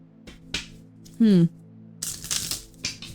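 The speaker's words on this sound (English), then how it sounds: "look at how the cards just keep on flipping out" Tarot cards are shuffled and flip out of the deck in quick papery riffles and snaps, close and fairly loud, in bursts around a short spoken remark.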